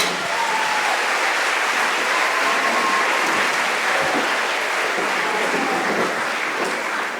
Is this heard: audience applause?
yes